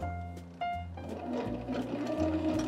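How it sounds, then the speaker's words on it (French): An electric hand mixer beats eggs on its lowest speed, giving a steady, close motor whir with a slight change in pitch partway through. No voices are heard. "on va mettre notre batteur au minimum, tout doucement"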